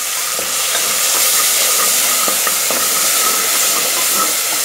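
Mint, coriander, curry leaves and special masala sautéing for a mushroom butter bean pulao, a steady loud sizzle and hiss with scattered light stirring clicks throughout, no voices.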